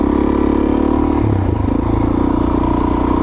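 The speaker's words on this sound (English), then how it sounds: "Came into the woods with my mighty DRZ dual sport." Suzuki DRZ 400S dual sport motorcycle riding a wooded trail, its engine droning steadily and loud throughout with a low rumble and rattling clatter, no talk.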